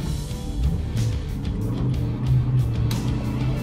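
Rental car engine in Cabo Verde revving steadily with a low droning hum, manual clutch held as the throttle is pressed, close and continuous with no talk.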